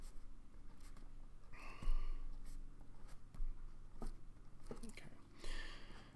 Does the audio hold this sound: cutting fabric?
no